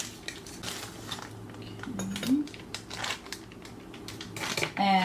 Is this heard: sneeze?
no